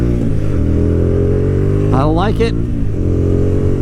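A Hyosung GTR250R motorcycle engine drones loudly and close at a steady, sustained pitch for the whole stretch, with someone briefly speaking over it midway.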